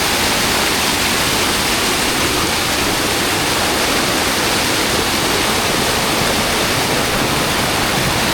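Loud, constant rushing of spring water flowing out of a hillside, a dense steady roar of flowing water up close with no pauses and no voices.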